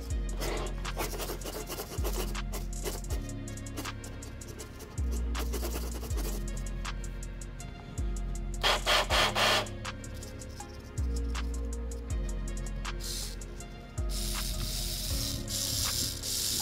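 Metal servo gears on a rebuilt WLToys K969 RC helicopter whir and ratchet in short mechanical bursts, stopping and restarting every few seconds, close up and fairly quiet with no talking.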